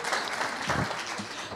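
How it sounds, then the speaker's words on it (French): Audience applauding throughout at a climate change conference, a steady dense wash of clapping from a large crowd, fairly loud and continuous with no speech on top. "ça vous donne l'occasion à tous d'applaudir, de bouger un petit peu"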